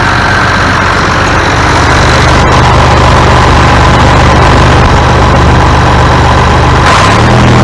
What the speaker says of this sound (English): We'll rev it up and see what we got.